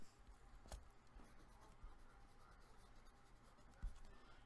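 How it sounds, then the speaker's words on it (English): A pen writes on a sticky note in a few quiet scratching strokes, close to the microphone with a soft background hum. "So I'm just going to write magnet on a sticky note."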